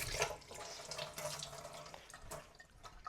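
Tap water runs onto a reusable paper towel in a home pantry, a steady hissing splash with slight fluctuations throughout, close and moderately quiet with no talking.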